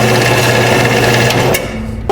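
Thin aluminum sheet, about 800 to 900 microns thick, being welded: a steady, loud, buzzing hum holds for about one and a half seconds, then cuts off into a quieter background.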